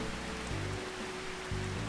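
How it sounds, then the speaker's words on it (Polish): Rain falls in the Farming Simulator 25 video game, a steady broadband hiss with no break, set over a low droning hum that drops out briefly and returns. "jeszcze nie mówcie, że deszcz zaczął padać"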